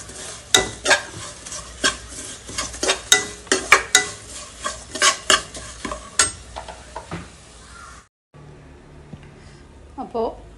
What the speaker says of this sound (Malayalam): പെട്ടെന്ന് സ്റ്റൗ ഓഫാക്കുക, എന്നിട്ട് ഇളക്കി കൊടുക്കുക.